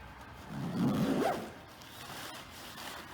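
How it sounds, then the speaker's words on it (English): A zipper on a camping tent's carry bag is pulled shut in one smooth, close zip lasting about a second, with quiet room sound after. "But it zips up just that easy."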